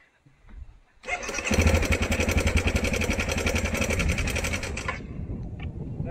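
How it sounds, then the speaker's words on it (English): A Honda CRF250L single-cylinder engine with a broken cam chain tensioner spring starts up and runs with a loud, rapid mechanical clatter over the idle, then cuts off abruptly near the end. "your motorcycle engine of your CRF250L, or probably any motorcycle, suddenly sounds like that"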